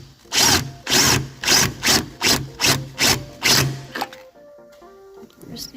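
Power tool tightening radiator hose bolts on a 2016 Jeep Cherokee 2.4L, eight loud rapid ratcheting bursts in a steady rhythm close up, then quiet handling noises afterward.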